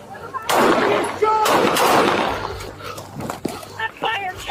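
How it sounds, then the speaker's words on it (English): Gunshots ring out during a police bodycam encounter as officers shout commands, loud sharp bursts near the start followed by more scattered impacts, with frantic yelling throughout. "Shot fired! Shot fired!"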